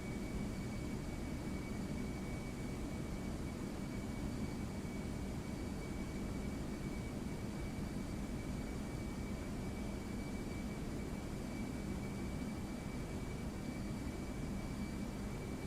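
FlightFactor Boeing 757 engines roaring steadily during climb in the X-Plane 12 flight simulator, a continuous broad jet drone with a faint high whine, in rain, unbroken and without talk.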